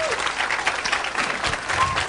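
Town hall crowd in Meredith, New Hampshire applauding as Ron Paul is introduced, a dense steady clapping that fills the room, with cheers and voices mixed in throughout.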